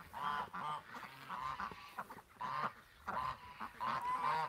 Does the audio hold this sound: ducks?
yes